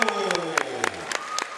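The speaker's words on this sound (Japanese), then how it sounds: "今一度盛大な拍手をお願いいたします" Applause for the fighters at the end of a Muay Thai bout in a Japanese event hall, a crowd clapping steadily with sharp individual claps standing out under an announcer's voice.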